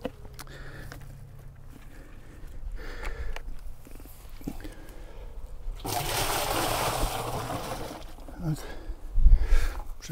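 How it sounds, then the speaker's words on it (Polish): Warm water from a bucket is poured into a beehive waterer, a steady splashing stream for a few seconds that swells in the middle, with handling knocks around it. "Teraz wystarczy je tylko zalać wodą."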